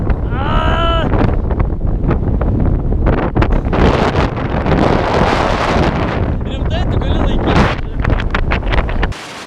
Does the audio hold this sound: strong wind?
yes